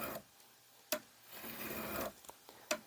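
Hardened burnishing rod of a Rockler cabinet scraper sharpening tool drawn along the steel scraper edge to raise a burr, giving soft repeated scraping rubs with a few sharper clicks, close and quiet.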